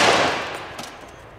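A 6.8x51mm NGSW rifle fires an XM1186 round into ballistic gel: a single loud, close report whose sharp broadband blast decays over about a second into a fading tail.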